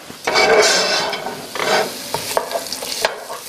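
A whole onion cooking and sweetening in a pot for a vegan cauliflower soup with kidney beans, stirred with a spoon in bursts of scraping and shuffling over a soft, steady sizzle, close and fairly loud.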